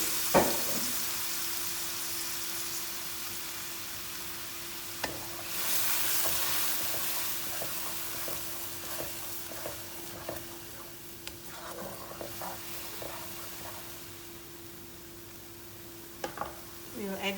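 Blended ingredients fry in oil in a pan for bhindi masala, with a steady soft sizzle and hiss and occasional scraping taps from stirring, fairly quiet and close.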